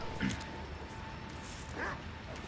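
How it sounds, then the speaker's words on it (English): Two short dog barks or yelps from Resident Evil 4 Remake, faint and somewhat distant, spaced well apart over a low steady background hum. "I think that's the dog"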